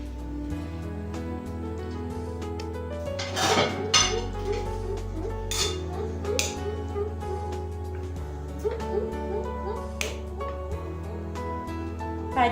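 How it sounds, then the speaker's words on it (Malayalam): Hyderabadi chicken biryani is moved into a serving dish with repeated metallic clinks and scrapes of pots, ladle and plates, loud and close over a low hum. "നമുക്കിത് വിളമ്പുന്ന ഒരു പാത്രത്തിലേക്ക് മാറ്റാം."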